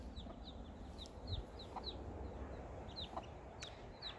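A hen clucks softly close by beside her newly hatched chicks, whose high, thin peeps repeat throughout over a low rustling background.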